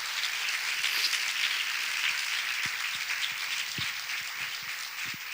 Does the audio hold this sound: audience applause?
yes